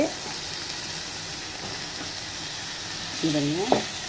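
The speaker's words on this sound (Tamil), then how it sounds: "இப்போ காயை போட்டு கொஞ்சம் லைட்டாக வதக்கிட்டு" Snake gourd pieces sauté lightly in a pan with spices for a homemade Tamil kootu, a low continuous sizzle and hiss with soft stirring, ending in a brief rising tonal squeal.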